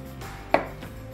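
A single close knife cut trims the very edge of a mushroom cap, one brief crisp tap against a cutting board in a quiet kitchen.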